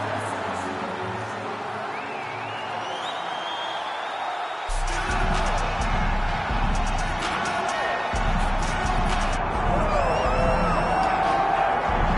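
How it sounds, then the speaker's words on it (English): A virtual arena crowd in the UFC 5 video game cheers and roars as Nate Diaz makes his walkout, a dense, loud swell of noise that comes in abruptly and sustains under a commentator's voice. "you hear the pop from the crowd, DC, as Nate Diaz gets set to make this walk here tonight"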